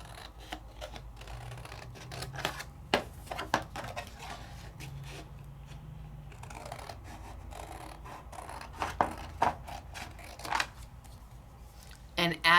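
Paper being trimmed with scissors in a card-making session, giving scattered crisp snips and rustles over a low background hum, with a voice speaking between the cuts.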